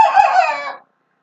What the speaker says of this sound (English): this is what a teenage rooster sounds like.